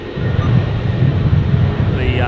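Jetstar Airbus A320 jet airliner on the move at Brisbane International Airport, a steady low engine rumble with some wind buffeting, loud and continuous throughout, with a faint voice in the background.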